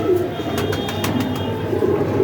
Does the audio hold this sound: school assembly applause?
no